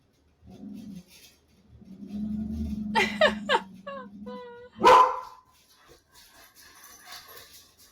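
A dog barks a few times in quick succession, close and fairly loud, with whimpering and other dog sounds around it, among brief household noises.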